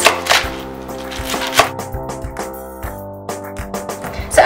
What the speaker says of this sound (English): we're just going to slice it into small pieces